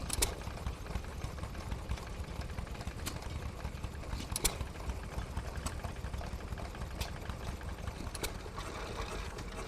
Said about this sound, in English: a hit and miss engine I do know, that's the Amanco Chore Boy